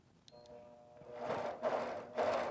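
Longarm quilting machine starting up quietly, then stitching in short bursts with a rising whir that swells and pauses twice, close by with no talking.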